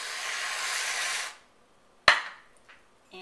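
Whipped cream sprayed from a can onto a mocha frappuccino in a glass: a loud hissing burst of about a second, then a sharp clatter and brief softer sounds, close up with no talking.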